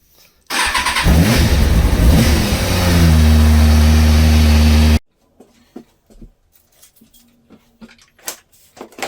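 Kawasaki ZX6R 636 motorcycle with a misfire problem starts up and idles roughly while warming up, a loud close engine drone that settles into a steady hum before cutting off, followed by faint clicks and handling noises.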